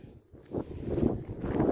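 Wind gusting during a big thunderstorm, buffeting the microphone in rising and falling rushes, loud and close, with no voices.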